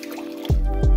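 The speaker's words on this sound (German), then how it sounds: "Der Reis geht also erstmal in den Topf, dazu kommt die doppelte Menge Wasser." Water pours into a pot of raw rice, a low rushing splash that starts suddenly and swells, close and alone with no talk.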